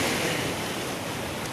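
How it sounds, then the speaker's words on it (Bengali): Sea waves breaking on Mandarmani beach, a broad continuous rush of surf with wind noise, loud and close throughout the brief moment. "প্রচুর ঢেউ দিচ্ছে"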